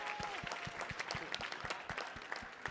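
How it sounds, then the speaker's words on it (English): An audience claps for juggler Christian Cluck at a Street Light Circus show on the Millennium Stage, a quiet, steady patter of hands with scattered sharper claps and no talk. "Let's give another round of applause for Christian."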